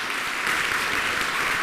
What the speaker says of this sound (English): Go ahead and give yourselves a round of applause.